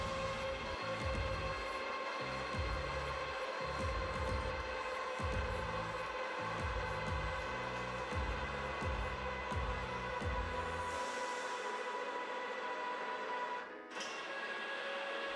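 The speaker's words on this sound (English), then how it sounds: "Once you press start, the machine will run the test according to the inputs." A LABA7 spring rate tester runs a compression test on a spring, giving a steady mechanical hum with a repeated low rhythmic pulsing, then a brief click near the end as the motion stops.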